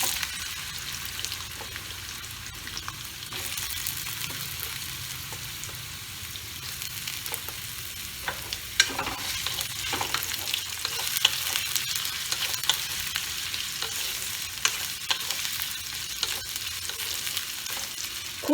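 Steamed potatoes fry in a small amount of oil in a pan for a potato and beans curry, a steady soft sizzle with scraping stirs and occasional clinks of the spatula, no voices.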